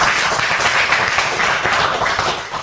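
Sustained clapping from an audience at a Money Free Party and Zeitgeist Movement meeting, dense and steady throughout, fairly loud, with no talk over it.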